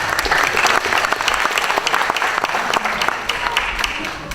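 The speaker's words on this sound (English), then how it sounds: "Give this man a round of applause." Steady, loud applause from a crowd at a kayak fishing event, continuous dense clapping with sharp individual claps throughout.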